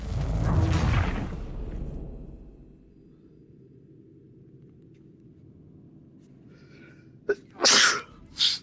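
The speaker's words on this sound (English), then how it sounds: "Really can't stop sneezing." A loud, close sneeze from a character in Assassin's Creed III Remastered, followed by quiet room tone and then a few short, sharp bursts near the end.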